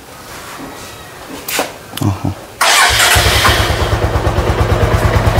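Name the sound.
Bajaj Avenger motorcycle engine starting and running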